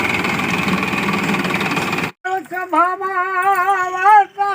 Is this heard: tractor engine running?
yes